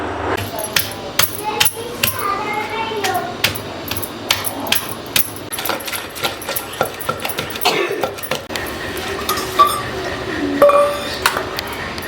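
Thick millet ambali batter being stirred in a pot, with a steady run of sharp metallic clinks and taps as the utensil strikes the pot, close and fairly loud with no talking.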